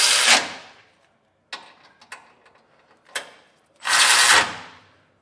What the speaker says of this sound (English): I'm going to take a 19mm socket, and we're just going to tighten these down a little bit so it holds the frame rail